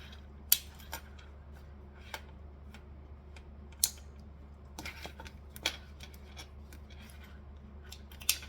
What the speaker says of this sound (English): Trim off all the tails you can see.